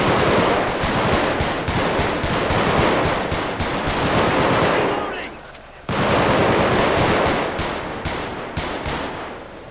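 Rapid bursts of automatic gunfire in a GTA 5 shootout, loud and dense with regular repeating shots, pausing briefly once before resuming, with faint voices underneath.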